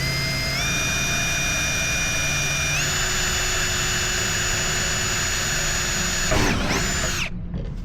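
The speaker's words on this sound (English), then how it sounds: "gonna drill holes and put them in" Power drill boring holes for a vent in a camper van build: a loud, continuous high-pitched motor whine that steps up in pitch, runs steadily for several seconds, then stops abruptly with a clatter.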